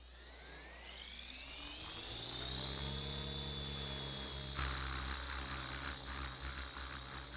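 Simulated RC helicopter in the AccuRC game, a Tarot model, spooling up and taking off at mid rotor RPM: a steady whining turbine-like hum with low rotor drone that rises in pitch and stays continuous, fairly quiet throughout.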